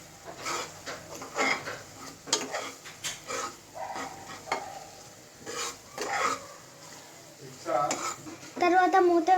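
Tomato egg curry being stirred and mixed in a pan, with repeated close scraping and clinking strokes of a spoon against metal over a low sizzle.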